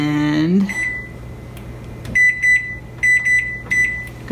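A brief voice, then a run of short electronic beeps, single and in quick pairs, as a kitchen timer is set.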